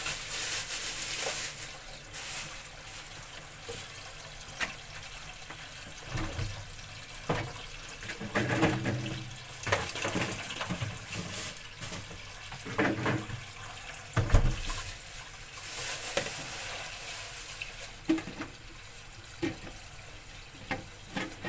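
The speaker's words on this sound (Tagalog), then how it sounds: "Hugasan natin yung ating karne." Tap water runs into a sink while pork for sinigang is rinsed, an irregular close splashing and gurgling with bursts and pauses as the meat is handled under the stream.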